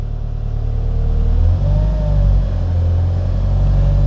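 A car engine revs gently up to about 1500 RPM as the accelerator pedal is pressed lightly, a steady close low hum that rises slightly and then holds.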